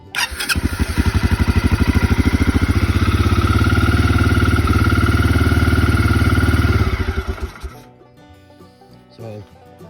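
A Yamaha Grizzly 300 ATV engine idles on half choke with a loud, steady rapid putter that runs for about seven seconds, then cuts out, leaving quieter clatter and handling noises.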